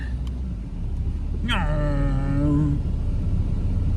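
A Vauxhall Cavalier car being driven, with a steady low engine rumble throughout and a brief gliding whine rising then falling near the middle.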